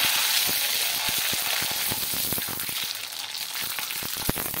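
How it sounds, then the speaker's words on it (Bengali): Sago papad fries in hot oil, a dense crackling sizzle with sharp pops scattered throughout, close and fairly loud, with no talking. "এবারে একটা পাঁপড় নিয়ে আমি দিয়ে দিচ্ছি। দেখুন পাঁপড়টা কতটা সুন্দর ভাজা হবে।"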